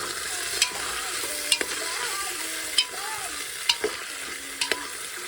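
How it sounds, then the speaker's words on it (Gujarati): Cluster beans fry in a pan under a constant close sizzle while a utensil scrapes and stirs through them in several distinct strokes, with no talking. "બધો ગુવર નાખી દીધો છે ને આપણે બરાબર મિક્સ કરી લઈશું"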